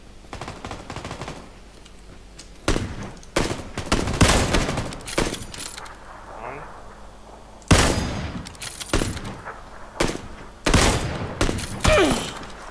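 Rapid bursts of automatic gunfire in PUBG come in repeated volleys, loud and close, separated by brief quieter gaps.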